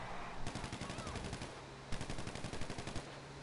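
Rapid bursts of automatic gunfire crackle in GTA Online, two dense volleys of quick shots a second apart, loud and close, with a faint voice murmuring under them.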